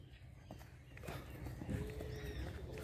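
A sorrel mixed-breed horse steps its hooves on very hard, packed ground, producing faint, soft clip-clops at an uneven walking pace over a quiet outdoor background.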